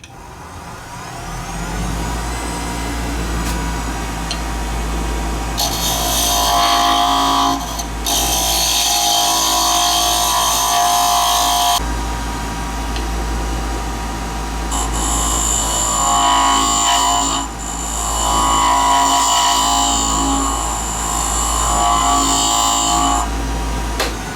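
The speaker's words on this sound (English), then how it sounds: "I'm going to turn down about the width of my carbide cutter" A lathe turns a finial while a carbide cutter shapes it. A constant low motor hum runs underneath loud, hissing scraping bursts as the cutter bites in, with quieter pauses between passes.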